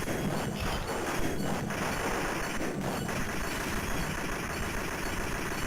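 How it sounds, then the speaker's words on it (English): A steady, loud mechanical drone from helicopters in the arcade game Operation Wolf runs unbroken, with occasional thumps and bursts layered over the low rumble. "It's nothing but helicopters now."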